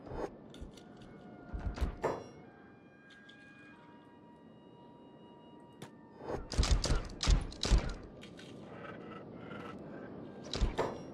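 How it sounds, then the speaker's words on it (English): Gunfire in the Kenshi video game during a fight: sharp bursts cluster near the start and again in a denser volley later, separated by a quieter stretch of low background hum. "we're still shooting"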